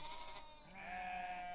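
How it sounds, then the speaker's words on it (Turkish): A flock of sheep blocking a road bleats in a brief, soft, sustained call heard at a distance, alone without talk. "Yol koyun dolu."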